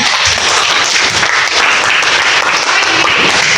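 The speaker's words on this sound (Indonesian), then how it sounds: "Beri tepuk tangan sama-sama." A school classroom applauds together: dense, continuous clapping from many hands, loud and close, sustained for several seconds with no talking.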